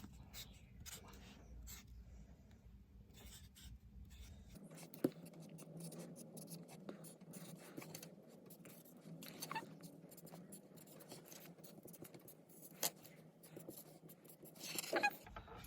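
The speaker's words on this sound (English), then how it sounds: "I have written numbers from 1 to 10 like this" A marker writes numbers on a cardboard circle for a kids' sundial, making faint, close squeaks and scratches in short strokes. Soft room noise sits underneath.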